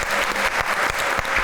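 A studio audience at a comedy talk show claps in a thick, continuous wash of applause with soft rhythmic pulses, loud and close, with no one talking over it.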